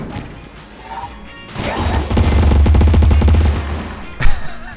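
Railgun in the video game Enter the Gungeon firing and bouncing off walls, a loud sustained rapid crackling burst with a deep rumbling low end, followed by a sharp smash near the end.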